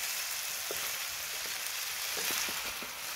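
Boiled chicken feet for adobo sizzle steadily in a pan, a soft, continuous frying hiss with a few scattered pops and clicks from stirring, heard fairly faint and alone.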